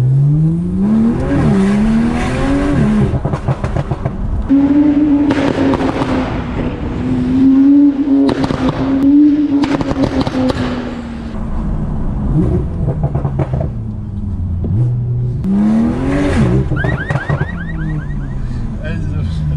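A Porsche 911 Turbo S drives through London, its engine note climbing and falling through repeated gear changes, loud and close with a low rumble underneath, revving up sharply near the end.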